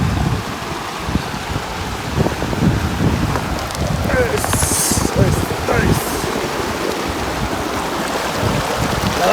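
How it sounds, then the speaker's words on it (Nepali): Cold mountain stream water rushing along a Nepal trekking trail, a loud continuous broadband wash with wind buffeting the microphone and some faint movement sounds. "पानी खान जाँदैछौँ है खोलामा। खोलामा यस्तो चिसो पानी।"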